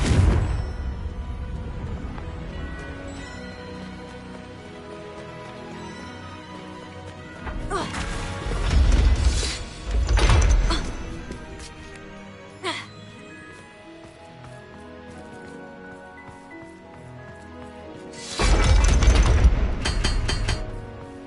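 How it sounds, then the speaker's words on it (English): Confringo blasting-curse explosions in the Hogwarts Legacy video game, a few loud crashing blasts spaced apart, the biggest bursts near the middle and end, over quieter game ambience and some speech. "Confringo!"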